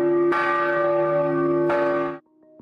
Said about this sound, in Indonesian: kalau lonceng Angelus sudah berbunyi